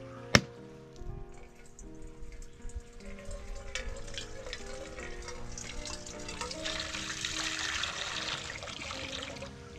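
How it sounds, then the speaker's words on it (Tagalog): Coconut water drains and trickles out of a coconut in a rural kitchen after a sharp opening knock, a soft continuous pour and dribble that grows slightly louder. "Kunin ko lang po yung tubig nitong niyog"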